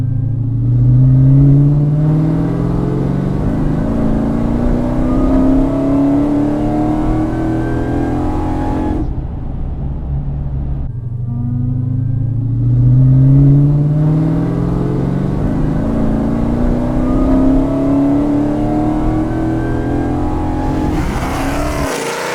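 A 1200hp carbon fiber Dodge Demon engine revs hard through two long pulls, the pitch climbing steadily each time, loud and close, with a brief lift between runs.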